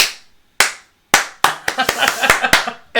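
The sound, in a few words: feeble applause imitated in a podcast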